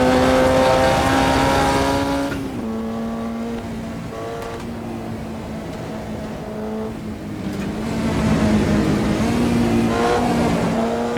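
An affordable track-day race car in Automobilista 2 races around the track on lap 7 of 10, its engine droning loud and steady, dipping as it lifts and then revving back up, with no talk.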